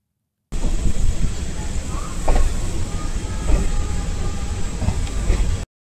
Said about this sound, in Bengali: তারপর আমাদের ট্রেন ছেড়ে দিল